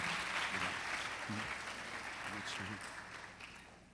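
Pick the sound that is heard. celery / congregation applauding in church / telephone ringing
congregation applauding in church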